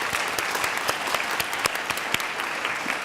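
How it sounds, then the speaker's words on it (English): An audience at a book festival award ceremony applauds the festival organizers with steady, dense clapping that runs the whole time, with a few louder individual claps standing out. "Let's please give a round of applause for them."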